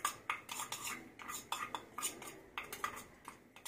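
A spoon mixes turmeric, chilli and salt in a dish, giving quick, repeated metallic clinks and scrapes in an uneven rhythm, close and fairly quiet, with no voices.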